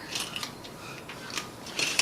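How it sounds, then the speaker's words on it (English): Small plastic model kit parts for a railway layout tip out of a plastic bag and clatter in soft, quick little bursts, faint and close with brief rustles between. "So we'll tip all our little parts out. That plastic bag we do not need anymore."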